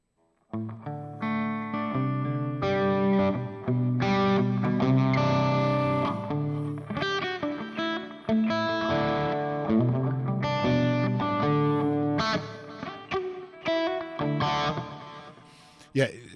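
Electric guitar played through an effects rig patch with reverb and delay, heard as a sustained, distorted run of chords and notes with lush trailing ambience, loud and continuous for most of the passage.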